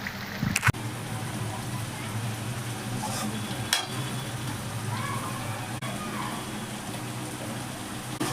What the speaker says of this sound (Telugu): ఇక ఆ చికెన్ ఫ్రై అవుతూ ఉంటుంది